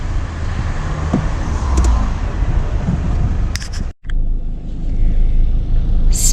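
Cars crawl in a traffic jam on the road toward Solang Valley past the Atal tunnel, a steady low rumble of engines and roadway noise with a brief dropout partway through.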